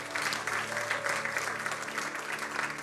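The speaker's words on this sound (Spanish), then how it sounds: "Denle ese aplauso fuerte a Cristo" A church congregation claps loudly for Christ during a Christian service, a thick, continuous roll of many hands with faint voices mixed in, sustained for a few seconds.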